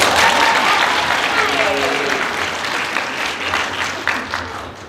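Fans at a Level Up Expo 2020 Overwatch voice actor Q&A clap and cheer for first-time attendees, a loud, dense burst of applause that gradually eases, with voices calling out in the crowd.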